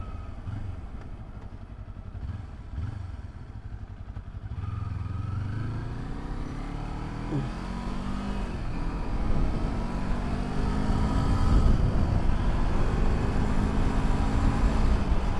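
A Modenas Kawasaki Z250 motorcycle engine drones and revs up steadily, with rattling and clattering from a bumpy, badly damaged road growing louder over time.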